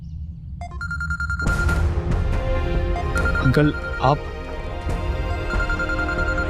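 A telephone rings in a home, its repeated electronic trill sounding near and clear over background music and ambient noise, with a voice speaking briefly partway through.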